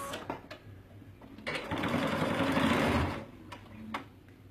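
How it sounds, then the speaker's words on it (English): A sewing machine stitches a 3/4 inch seam allowance in one steady, close whirring run of about a second and a half, with a few clicks and handling taps before and after. "And I'm going to sew the same thing, 3/4 inch seam allowance."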